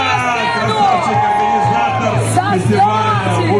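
At a food festival in Ufa, a crowd yells, whoops and cheers loudly and close by, a sustained chorus of raised voices with shouts overlapping throughout.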